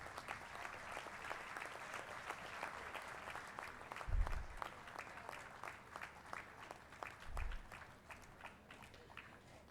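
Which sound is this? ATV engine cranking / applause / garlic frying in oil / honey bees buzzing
applause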